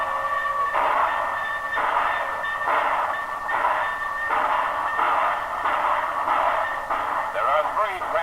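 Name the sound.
Trans-Canada Express passenger train leaving the station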